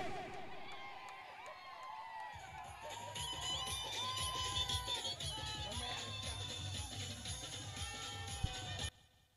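A crowd at a local cricket final roars and cheers after a run-out wicket, a loud, sustained wash of noise with a sharp bang near the end, and a commentator talks over it.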